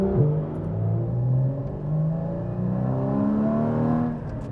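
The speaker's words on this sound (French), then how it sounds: "la GT4 fait vraiment un bruit vraiment entre 1000 et 3000 tours, qui est vraiment un peu plus élevé que la GT3 RS" A Porsche GT4 engine revs with a strong, low, steady note that rises and falls in pitch across several throttle swells, fairly close and alone without talk.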